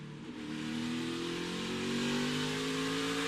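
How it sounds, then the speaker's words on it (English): A Toyota NASCAR Xfinity race car at Martinsville Speedway, heard from onboard, roars as the driver gets on the throttle, its engine note climbing steadily in pitch and growing louder over a few seconds. "Listen to when he gets on the throttle."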